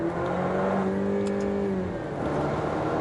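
An Alfa Romeo Stelvio Ti SUV with a Centerline Stradale sport exhaust rumbles steadily at close range, its pitch rising and falling as it revs, with a deep throaty exhaust tone throughout.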